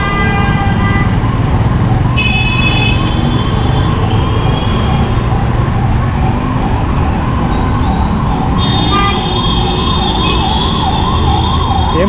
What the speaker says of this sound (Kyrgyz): Эч кандай себеп жок сигналга.